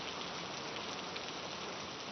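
Heavy monsoon rain pours down steadily around the Bhandardara dam, a dense, even hiss of countless drops with no talk or other sounds over it.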